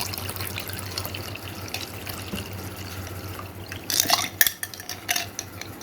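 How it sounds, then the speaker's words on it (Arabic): A glass of iced cold water is poured into dissolved strawberry jelly mix with sugar, a close, splashy pour that swells with clinking near the end, with no talk. "هننزل كوباية مية ساقعة، مش باردة من الحنفية، لا مية ساقعة اهي."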